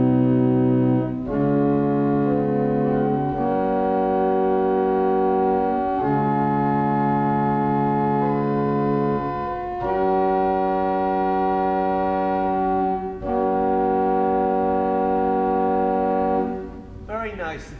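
A J.J. Binns pipe organ speaks on its 8-foot open diapason stop, sustaining full, steady chords that change every few seconds, loud and close, alone with no talking, ending on a final release.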